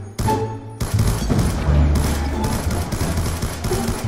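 Dense gunfire from the Black Ops 2 game, sustained and loud, with rapid overlapping reports and booming low end filling the whole stretch without pause.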